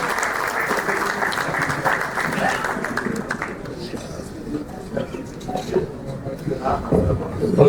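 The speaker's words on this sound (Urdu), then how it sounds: "بھرپور تالیوں میں استقبال کیجیے" An audience claps in welcome for a senior newspaper journalist at a ceremony, a thick loud round of applause that fades midway, leaving scattered claps and murmuring voices before rising again.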